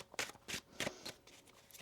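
Tarot cards are shuffled close by in a quick series of crisp riffling bursts, about six short flurries of papery flicks at an uneven rhythm, with no talking.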